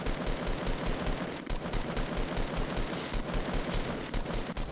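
Sustained automatic gunfire in the Fortnite Battle Royale shooter game, dense and continuous with rapid closely spaced shots, loud and close throughout and no talk.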